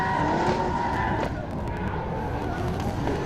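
A drift car with only a four-speed gearbox roars through a heavy burnout at the start, its engine note shifting and briefly dropping as it cuts out, loud and continuous with tyre noise beneath.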